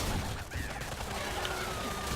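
Turrets firing in the strategy video game Tooth and Tail, a dense, steady burst of gunfire-like shots running continuously through the short stretch at moderate level with faint in-game effects mixed in.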